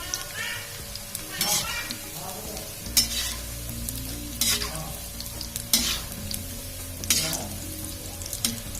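Jackfruit and spinach pakoras frying in hot oil, a steady close sizzle with scraping stirs and spoon knocks recurring throughout, no talking.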